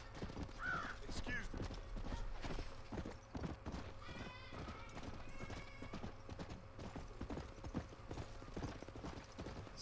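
Horse hooves clip-clop steadily while riding in Red Dead Redemption, a brisk repeating beat of hoof strikes with occasional whinnies over an outdoor ambience.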